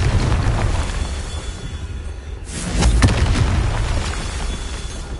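Confringo fire-spell blast from the Hogwarts Legacy video game: one deep, booming burst midway through, rising out of a steady rumbling game backdrop and then fading back into it.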